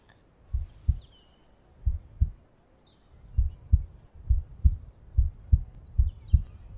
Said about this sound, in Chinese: 心跳的这么厉害，